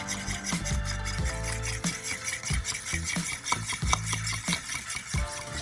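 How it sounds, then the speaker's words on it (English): Spoon stirs olive oil into a spice rub for grilled ribs, making a repeated rasping, scraping sound against the bowl in a steady rhythm, close and fairly loud, with no talk. "I'm gonna stir, get this all mixed in there nice and smooth."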